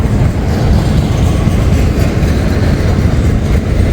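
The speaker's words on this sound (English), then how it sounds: "So there's our westbound train on the UP Geneva sub" A westbound Union Pacific train passes on main track 1 of the Geneva Subdivision at Rochelle, Illinois, a loud, close, unbroken rumble of wheels and railcars that holds steady throughout.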